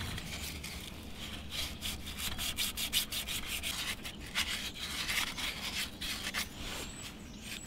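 Sandpaper rubbing grime off a part of a 1978 Troy-Bilt tiller, a steady run of quick rasping strokes close by, rhythmic and unbroken, with no talking.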